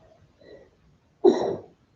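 One person sneezes once, a short sharp burst after a faint intake of breath, close and alone in a quiet room.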